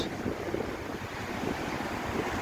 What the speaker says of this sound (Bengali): সমুদ্র খুব উত্তাল বড় বড় ঢেউ আছড়ে পড়ছে